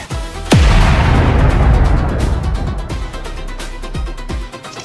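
A rapid series of loud firecracker explosions, one big bang followed by crackling bursts and further booms echoing close by.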